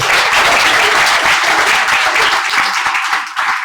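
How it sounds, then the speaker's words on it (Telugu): An audience at a book launch event applauds loudly and steadily, a dense wash of many hands clapping that tapers slightly toward the end. "చప్పట్లు కొట్టండి పెద్దగా"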